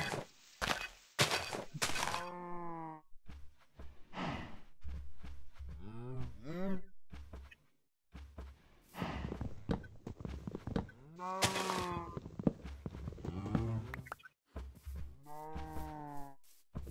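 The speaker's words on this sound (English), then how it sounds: "Lots of cows, lots and lots of cows." Cows in a video game moo repeatedly, several drawn-out, groaning calls spread across the stretch, some close and loud, some overlapping, with dull thunks between them and no speech.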